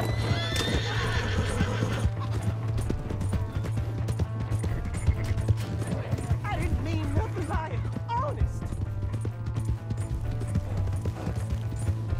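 Horse hooves clip-clopping and a neigh in the video game Red Dead Redemption 2, galloping steadily close by over a low constant rumble, with a whinny early on and scattered thuds.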